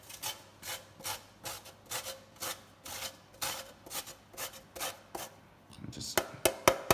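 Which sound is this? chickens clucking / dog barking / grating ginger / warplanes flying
grating ginger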